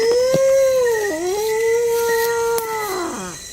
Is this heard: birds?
no